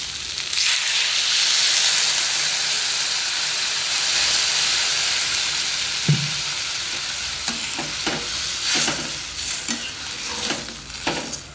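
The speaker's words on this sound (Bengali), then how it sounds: "এবারে জল ঢেলে দেবো" Water is poured into a hot pan of fish curry with raw banana, potato and bitter gourd, producing a loud steady hiss and sizzle, then scattered clinks and bubbling as it settles.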